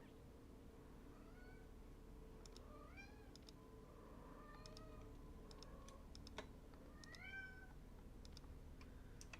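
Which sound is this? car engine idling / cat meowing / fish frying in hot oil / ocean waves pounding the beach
cat meowing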